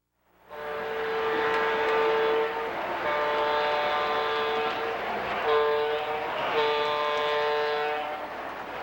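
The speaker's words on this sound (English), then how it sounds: "Boy, that new diode sure makes an improvement in that whistle." An O gauge model train whistle, freshly fitted with a new diode, sounds a loud, steady multi-tone chord across the layout, broken into several long blasts with short dips between them, with no voices present.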